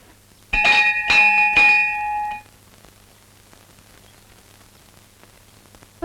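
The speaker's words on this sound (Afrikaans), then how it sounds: "Oupa het beloof om nie die klok te lui tensy dit baie dringend is nie." A bell rings urgently in a few rapid, loud clangs, its tone ringing on for about two seconds before fading into quiet background hiss.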